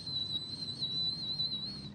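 A voice imitates a high-pitched tinnitus whistle, one steady piercing tone held for about two seconds over a faint low background, close and fairly loud.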